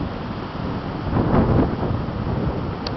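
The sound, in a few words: wind blowing in the garden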